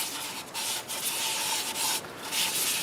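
Sanding wood by hand with sanding paste on a woodturning: a close, steady rasping rub in repeated back-and-forth strokes with a gritty, hissy texture.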